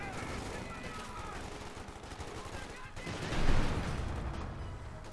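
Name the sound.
gunfire in battle, Company of Heroes 2 video game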